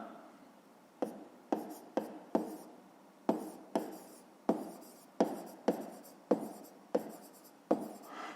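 Pen strokes of a math answer being written by hand in a grade 5 maths exercise, a dozen crisp scratching taps in an uneven rhythm, close and quiet with no talking.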